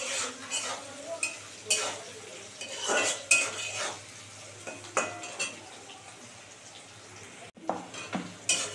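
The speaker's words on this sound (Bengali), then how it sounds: "এটা আরও 2 মিনিট সুন্দর করে ভাজা হবে।" A spoon clatters and scrapes repeatedly against a pan as spices for masala paneer keep frying, the metallic knocks loud and irregular over a faint low sizzle, heard up close without any voices.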